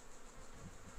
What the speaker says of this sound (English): The flies are happy now I'm here, they're all buzzing around.